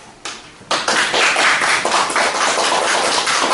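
An audience breaks into clapping after a speech at a Korean press event on a special prosecutor report, starting with a few claps and swelling into steady applause.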